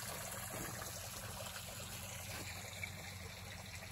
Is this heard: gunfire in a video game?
no